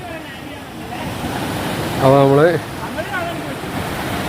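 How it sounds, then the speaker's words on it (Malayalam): Water of the Karamana river flowing at low level in the dry season on the Agasthyarkoodam trek, a steady broadband rush heard throughout, with someone speaking briefly over it in the middle. "അപ്പോൾ ഇതാണ് കരമനയാറ്"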